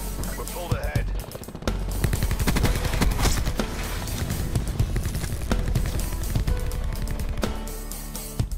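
Rapid bursts of gunfire from a shooter video game, dense automatic volleys and sharp single shots crowding the whole stretch, loud and close with scattered booms, while a player's voice talks over the action.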